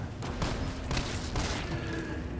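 Rapid gunfire bursts in the survival-horror video game Resident Evil 3, several loud broadband shots clustered in quick volleys over a dense, constant game soundscape.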